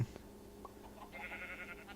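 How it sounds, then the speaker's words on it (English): A single faint sheep bleat in Minecraft, a short wavering call lasting about a second against a quiet background. "I've got some sheep"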